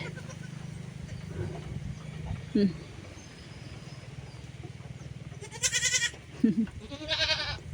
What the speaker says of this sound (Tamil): நம்ம ஆட்டுக்குட்டிங்கெல்லாம் நம்ம ஆட்டெல்லாம் வந்து மேய்ச்சலுக்கு அனுப்பி விடலாம்